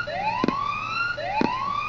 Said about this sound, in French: Pour désactiver la sirène, il suffit de cliquer dessus.